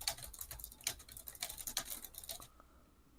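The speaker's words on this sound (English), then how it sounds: "What are you typing?" Fingers tap quickly on a computer keyboard in an irregular run of soft clicking keystrokes, then stop abruptly, leaving a short quiet pause.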